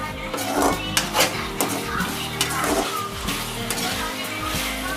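Chinthamani chicken being stirred in a pan with pepper, a spoon or ladle scraping and clanking against the metal over a steady sizzle of frying, with no voices.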